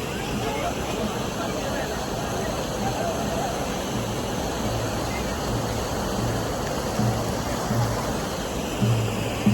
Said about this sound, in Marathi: पाणी आहे भरपूर वाहतं पाणी आहे बघा हे पाणी कसं वाहतंय खळ खळ खळ